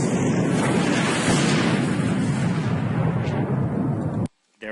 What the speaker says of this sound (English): the blast, rumbling. I have my catapult lobbing pitch perfectly.